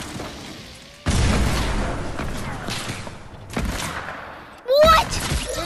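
Shots fired in a first-person shooter game, heavy booming bursts and thuds arriving in a few loud clusters over a dense, noisy battle bed, with a rising whistling sweep near the end.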